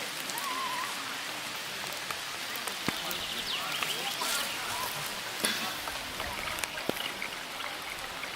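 Steady rain patters down with scattered sharper drops landing close by, a continuous wet hiss throughout.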